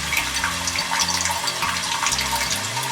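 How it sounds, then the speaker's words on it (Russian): Hot water streaming from a tap after the heat exchanger on a Vaillant boiler was replaced, a steady continuous splashing flow that is fairly loud and close, with no talking. "До того, как мы поменяли теплообменник, струя воды была вот такая приблизительно текла."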